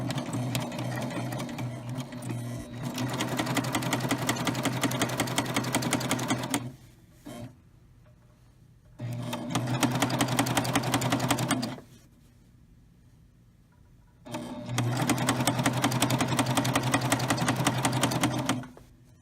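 A Baby Lock serger stitches a row of chain stitch on an apron project in three fast, steady bursts of rapid mechanical whirring, separated by short quiet pauses, close up with no talking.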